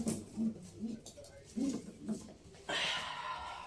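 Pigeons in a loft, with a male wearing a leg ring, give a run of low, soft coos close by, followed by a louder burst of rustling or fluttering near the end.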